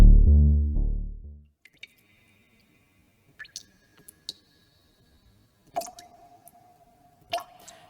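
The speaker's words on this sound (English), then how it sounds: "It starts with the drip." In an audio drama, water drips one drop at a time, first a couple of faint plinks and then louder echoing drops spaced seconds apart in a quiet space, following a fading low tone.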